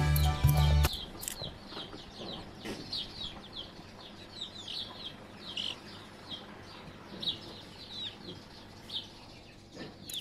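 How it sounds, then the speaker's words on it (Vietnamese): A chicken clucks and chirps in a farmyard with soft scattered calls throughout. The sounds are moderately close, and a loud burst of low-pitched noise comes at the very start. "Ui, đây là bạn gà."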